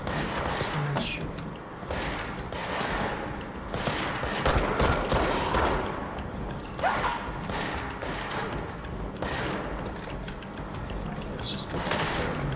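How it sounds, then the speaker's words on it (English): Gunfire in the video game Control, bursts of shots crackling through a busy game mix alongside thuds and mechanical sounds, moderately loud and repeated throughout. "Someone's shooting."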